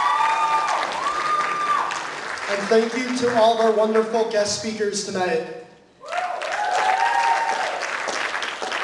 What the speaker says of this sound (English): Let's give it up another round of applause.